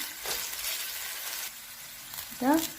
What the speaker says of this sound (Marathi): इथं मी अद्रक आणि लसूण बारीक करून घेतलेलं, हिरवी मिरची बारीक कट करून घेतलेली, हे एकत्र असं परतून घेऊ